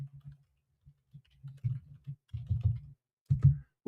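Someone types on a computer keyboard at close range, with irregular bursts of soft key clicks separated by short pauses.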